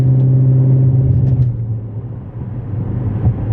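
A 2013 Dodge Charger R/T AWD fitted with a Pedal Commander throttle controller in city +2 mode pulls hard, its loud, steady engine drone filling the cabin and easing slightly in the second half.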